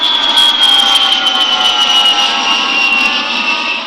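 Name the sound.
loud roar of an airplane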